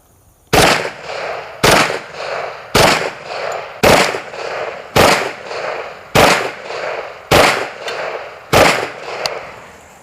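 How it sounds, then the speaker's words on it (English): Rapid paired shots from a Kriss Vector .45 ACP carbine ring out in a steady cadence, about nine loud sharp bursts spaced roughly a second apart, each with a brief echoing tail across an outdoor range. "I think these double taps coming from the Kriss are going to be really devastating downrange"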